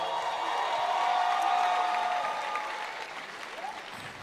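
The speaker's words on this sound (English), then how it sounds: "Big round of applause." A commencement crowd at Miles College applauds the class of 2023 with dense, sustained clapping mixed with cheering voices, loudest early and easing slightly toward the end.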